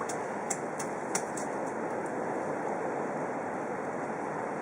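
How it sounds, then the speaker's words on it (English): A child jumps and runs back and forth in a rain puddle outdoors, giving a steady wash of splashing water with a few sharper splash accents near the start. "Can you do a big, big jump in the puddle?"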